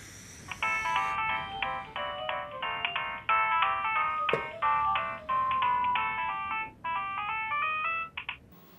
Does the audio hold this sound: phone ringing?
yes